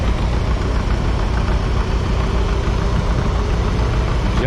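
Restored family John Deere B tractor idling nearby, a steady low engine rumble with dense broadband noise holding evenly throughout, no voices.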